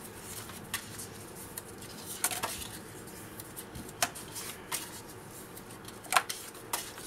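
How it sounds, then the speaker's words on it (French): Small paper scrapbooking cards are folded and creased by hand, giving soft scattered rustles and a few sharper paper snaps over quiet room noise. "c'est qu'on plie toutes nos petites cartes."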